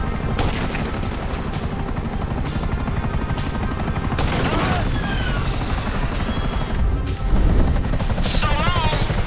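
A police helicopter in Grand Theft Auto V comes under gunfire, its loud rotor thrum mixed with bursts of shots, crashes and booms in a dense, chaotic battle soundscape, with voices shouting at times.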